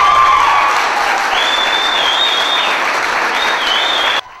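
A crowd at a funding announcement breaks into loud, sustained applause mixed with whistles and cheers, then it cuts off abruptly at the end.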